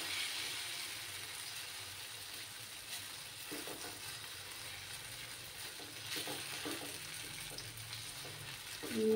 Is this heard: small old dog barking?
no